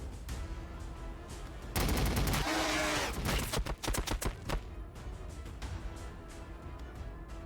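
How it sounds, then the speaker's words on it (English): Battle din in WH40K: Battlesector with artillery fire: a sustained loud roaring blast followed by a string of sharp, rapid detonations and bursts, then lower rumbling combat noise. "That blasted artillery is still out there."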